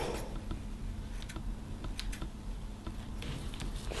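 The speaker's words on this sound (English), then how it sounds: "So I just go around with scissors" Faint, quick snipping clicks of scissors trimming long paper fibers repeat irregularly in a quiet room, each cut small and light.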